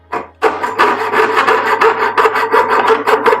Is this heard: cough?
no